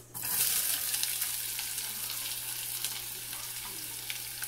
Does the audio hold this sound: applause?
no